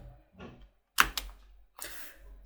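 A couple of sharp, close key presses on a computer keyboard as a command is entered, separated by brief silence over a low hum.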